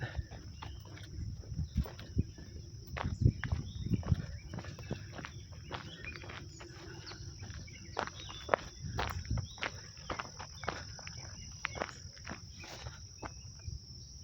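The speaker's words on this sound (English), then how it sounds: "there's a lot more bugs and bees and stuff in here now this time of year" Insects buzz and chirp in the woods along the Wild Oaks Trail in Bedford Metroparks, a constant high drone throughout with crunching footsteps on the path and no talk.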